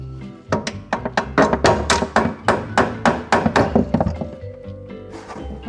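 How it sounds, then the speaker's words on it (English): Screwdriver tapping repeatedly on a sink faucet during kitchen countertop installation, a run of about fifteen sharp, close metallic knocks in quick irregular rhythm, loud and alone without talk. "So get in there and tap it with the screwdriver"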